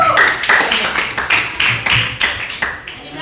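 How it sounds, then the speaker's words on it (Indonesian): Applause in a classroom as students clap for a classmate, a brief burst of fairly loud, close claps with an irregular rhythm and a few faint voices beneath. "Tepuk tangan dulu untuk Clara."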